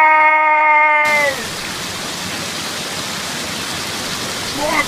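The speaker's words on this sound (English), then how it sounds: "Look out for the waterfall!" Waterfall in an animated outdoor adventure scene: a steady, loud rush of falling water fills the clip after a brief harmonic tone at the start, continuing evenly with no other clear sounds.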